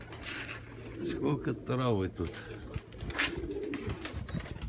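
Pigeons cooing in low, soft bursts while being fed grain outdoors, heard under someone talking close by.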